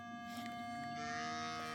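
A Minelab Manticore metal detector's threshold tone hums as a steady, faint electronic drone with several fixed pitches held for nearly two seconds, continuous and unbroken throughout.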